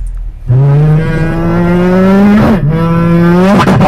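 A voice imitates a car engine, a loud sustained revving drone that rises in pitch, dips briefly, then revs up again.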